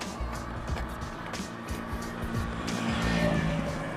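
A Honda Click 125 version 4 scooter engine runs on a mountaintop, giving a continuous close rumble with slight rises in revs, set against outdoor wind noise.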